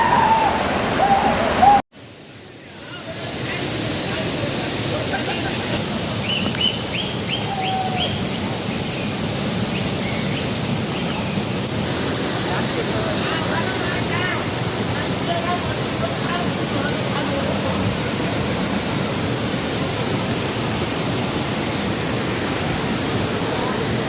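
Karumandurai Falls near Salem pours with a dense, steady roar of rushing water, heard up close; a sharp break near the start gives way to the unbroken wash for the rest.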